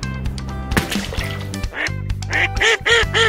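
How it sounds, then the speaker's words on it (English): A duck quacks loudly and close in a rapid series of nasal calls, several quacks in a row, with no talk over them. "Duck."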